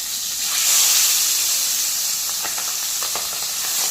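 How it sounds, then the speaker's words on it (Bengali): Pabda fish hissing steadily in hot oil in a wok, a loud continuous sizzle with a few faint crackles near the end, no one speaking. "কড়াই গরম হয়ে গেছে, কড়াইতে তেল দিয়ে দিয়েছি। এখন আমি মাছগুলো ভাজার জন্য দিয়ে দেবো।"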